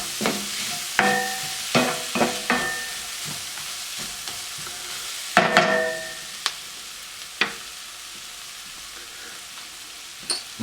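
Tomato paste being stirred into softened onions, celery and garlic in a pan: a series of distinct scraping spoon strokes over a soft sizzle, several clustered early, then sparser strokes fading to quiet, with no talking.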